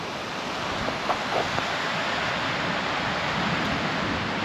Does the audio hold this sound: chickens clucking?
no